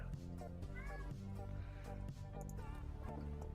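An orange cat meows a few times close by, the short rising calls sitting over a steady low hum and background sound, with some faint talk or voice-like tones mixed in.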